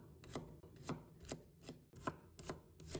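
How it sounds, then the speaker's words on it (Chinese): A knife slices through garlic cloves in about seven crisp, evenly paced chops, each a sharp close thud of the blade striking the board, quiet and with no speech. "先把它切成片，"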